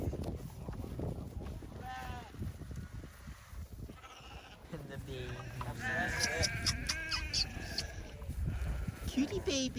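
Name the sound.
cows and calves mooing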